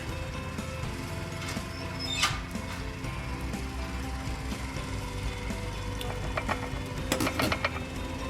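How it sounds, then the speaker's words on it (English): A utensil stirs and clinks in a mug as the liquid ingredients for keto mug bread are mixed, giving steady scraping with a few sharp taps, moderately close over a background hum. "Just like to mix the liquids together."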